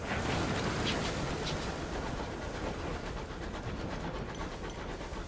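A sky locomotive runs steadily in Sunless Skies, a continuous rumbling, chugging drone with a rhythmic pulse. It holds at an even, moderate level with no talking over it.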